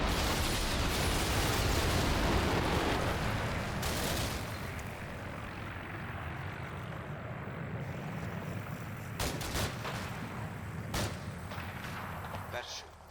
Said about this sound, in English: and sprays them with cannon fire.